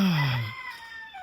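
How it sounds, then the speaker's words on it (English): A rooster crows once in the open air in Jamaica, a single loud, drawn-out call that falls in pitch and fades quickly. "Roosters, cool."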